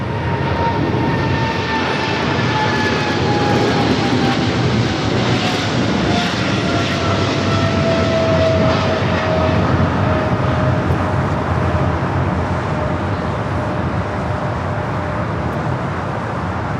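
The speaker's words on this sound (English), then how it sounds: "Was Coletta Air Flight 214 taking off on that 777-300 freighter conversion" A Boeing 777-300 freighter conversion takes off at LAX, its engines producing a long, loud, steady roar with a slowly falling whine as it climbs away, road traffic faintly underneath.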